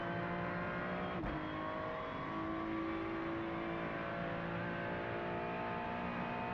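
A Ferrari GT3 race car engine in a racing video game drones steadily at high revs, with a brief tonal sweep early on, close and continuous throughout without any talk.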